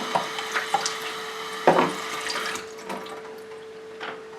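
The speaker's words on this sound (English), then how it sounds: "and rinse with cold water." Cold running water from a tap splashes steadily over raspberry seeds in a strainer, with small clatters and a sharper knock partway through, close by, then thins toward the end.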